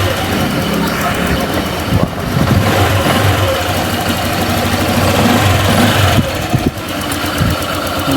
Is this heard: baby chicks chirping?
no